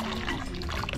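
Water strained and poured off boiled garden eggs, onions, tomatoes, peppers and turkey berry for palm nut soup, a brief continuous splashing trickle heard close up, no speech.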